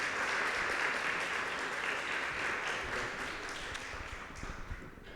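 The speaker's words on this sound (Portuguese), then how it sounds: "E eu quero pedir então aplausos de boas-vindas a Dani." Welcome applause from an audience at a literary talk with a writer: continuous, dense clapping from a crowd, steady and moderately loud, tapering slightly near the end.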